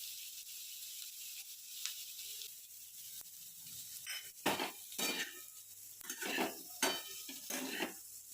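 Potatoes being stirred into fried chillies and peanut powder in a pan, a soft sizzle beneath repeated scraping, clattering spoon strokes that come in bursts toward the end.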